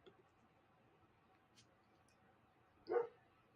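A dog barks once outside, a single short, muffled bark heard faintly at a distance against a quiet background hum.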